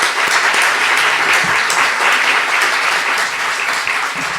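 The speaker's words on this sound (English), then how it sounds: "Please give Guadalupe a round of applause." A crowd gives steady, dense applause for Guadalupe Guerrero at an evening discussion event, loud and sustained throughout with only faint voices underneath.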